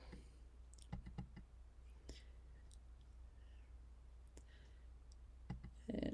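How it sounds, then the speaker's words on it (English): A computer mouse clicks while working in Adobe Illustrator with the curvature tool, giving soft, close, scattered single and double clicks over quiet room tone, with faint whispery talk. "This is a point, so I have to double click."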